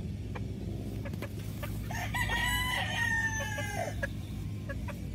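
Roosters crowing on a Philippine gamefowl farm, one long drawn-out crow standing out mid-clip over a steady din of clucking and other birds, moderately near.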